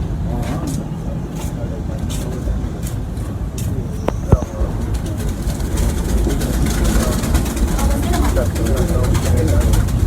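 Pigeons coo softly amid a busy background, with people talking nearby and occasional clicks and knocks.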